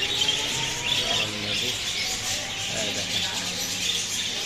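Lovebirds in a cage chirping and tweeting repeatedly, a busy high-pitched chatter close by, with some faint background sounds.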